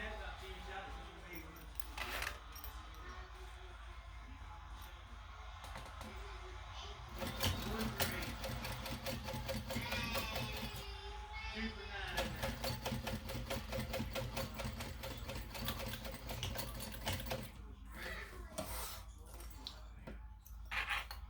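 A home sewing machine runs in steady bursts, top stitching down the sides of a folded fabric pack, its rapid mechanical whir pausing briefly between passes, with quiet background noise.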